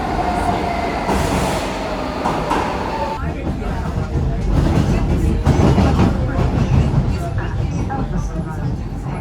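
A metro train in London rumbles past close by, a steady roar of wheels and motor with a brief high squeal near the start, voices faintly underneath.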